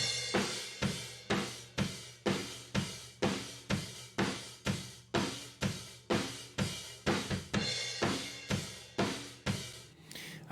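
Drum kit room microphone tracks run through EQ and compression, low end and a little top end rolled off: a steady, even pattern of roomy hits, each with a short decaying tail, with no voices.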